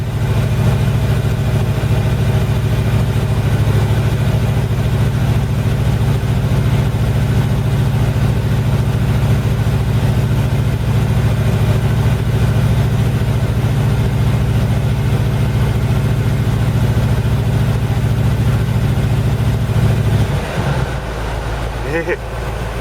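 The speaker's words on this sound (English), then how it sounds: "This thing's just idling." A Jaguar XJ12 with a V8 engine idles with a steady, deep rumble for a long stretch, close and loud, air conditioning running, then drops off near the end.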